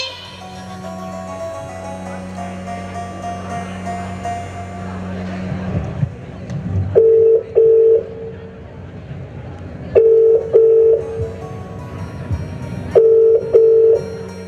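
Telephone dialing and ringing tones at a college annual function stage performance, repeated paired electronic beeps sounding in three bursts after a stretch of background talk and hum, fairly loud and clear.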